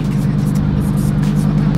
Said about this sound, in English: One more baby rev for Kenny.